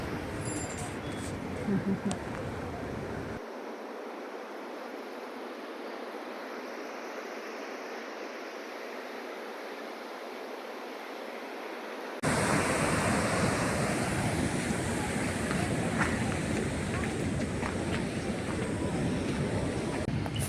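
Sea waves wash onto a beach in a continuous roar of surf, with wind buffeting the microphone and an abrupt jump in loudness partway through, and faint voices mixed in.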